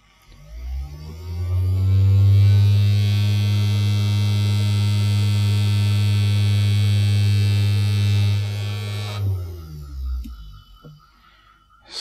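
A small electric motor on a speedometer kit runs off a battery, spinning up into a loud, steady low hum with a buzzing whine, holding for several seconds before winding down and stopping, close and alone.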